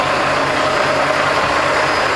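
A 2009 Volvo VT64T800 day cab truck idles up close, a loud, steady low diesel rumble with an even mechanical drone and no voices.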